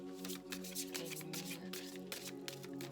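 Tarot cards being handled and drawn from a deck: a continuous soft papery riffling and sliding with short crisp flicks, close and quiet over a steady tonal background hum.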